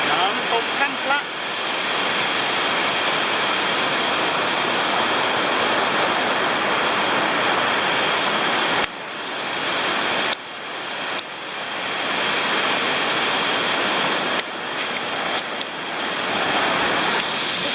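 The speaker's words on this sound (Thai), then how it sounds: "น้ำตกถ้ำพระ" Tham Phra waterfall, a natural rock water slide in Bueng Khong Long, Bueng Kan, Thailand, gives a loud, continuous close rushing roar with some wind buffeting and a few abrupt cuts.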